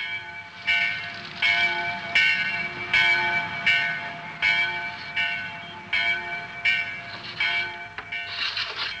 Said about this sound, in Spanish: ¿Oyes la campana de la iglesia?